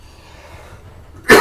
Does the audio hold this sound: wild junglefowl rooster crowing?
no